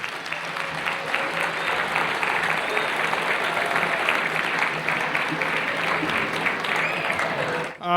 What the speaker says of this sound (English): one more round of applause for our Hall of Fame members